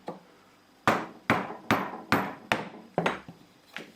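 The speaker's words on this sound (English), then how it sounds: "I'm using a piece of wood and a mallet" A mallet strikes a block of wood, working an air pistol held in a vise with rubber clamps: seven sharp, loud knocks at a steady pace, each with a short ringing decay, alone with no talk.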